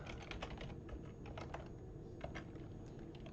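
Fingers tapping steadily on a computer keyboard while entering a command in a Windows 11 development setup, a quick, close patter of individual key clicks.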